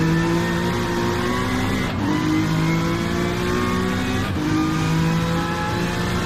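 Honda NSX GT4 race car engine in a racing video game, droning steadily with loud harmonic whine, dipping briefly around gear shifts before pulling hard again, continuous and close.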